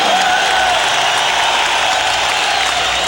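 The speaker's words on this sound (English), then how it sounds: "And Meldric Taylor joins in the applause for Ernie Chavez." A boxing crowd applauds continuously, a dense, even wash of clapping with a murmur of voices underneath.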